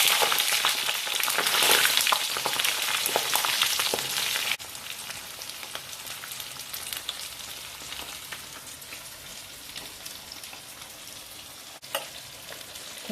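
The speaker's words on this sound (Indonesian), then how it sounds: "Nah, ini ayamnya kita goreng ulang" Chicken pieces are fried a second time in hot oil, giving a loud continuous sizzle with crackling spits and occasional stirring, easing slightly after a few seconds, with no talking.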